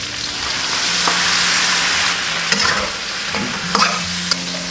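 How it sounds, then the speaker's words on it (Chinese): Duck meat being stir-fried with scallion, ginger and garlic in a hot wok, a steady loud sizzle with scraping stirs and occasional clacks of the spatula throughout. "继续给它翻炒5分钟"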